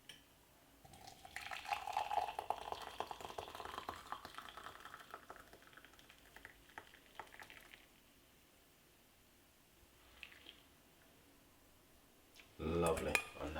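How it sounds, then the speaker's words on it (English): Boiled tea poured off from a pot, a soft liquid stream alongside clinks of dishes and cutlery, fairly quiet and intermittent, ending with a louder clatter. "pour off this nice lovely tea."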